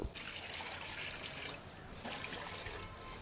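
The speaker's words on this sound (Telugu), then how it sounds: "ఇది మునిగేంత వరకు నీళ్ళు పోసుకోవాలి" Water pours steadily into a cooking pot over goat tripe (boti) pieces until covered, a continuous trickling splash that briefly eases near the middle before flowing on, fairly quiet with no talking.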